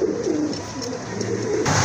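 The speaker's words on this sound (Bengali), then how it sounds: "এক জোড়া কবুতর।" A pair of pigeons at a bird sale coo softly in a short, close murmuring call, followed by a slightly louder burst of noise at the end.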